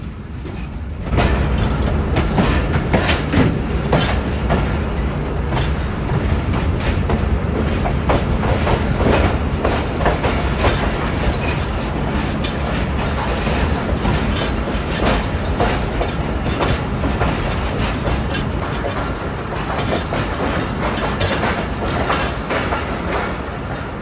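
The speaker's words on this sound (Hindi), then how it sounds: "प्लेटफॉर्म नंबर 2 पर अप्रोच बना रही है ट्रेन इस वक्त" Allama Iqbal Express pulling in at platform 2 of a station, a steady loud rumble of wheels and rolling cars with rhythmic clickety-clack and occasional faint squeal, continuous for the whole stretch.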